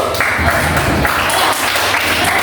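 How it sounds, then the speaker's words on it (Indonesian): Applause from a classroom audience for a student presentation group, a steady dense patter of many hands clapping at moderate loudness, with faint murmuring underneath. "ayo tepuk tangan untuk kelompok 3"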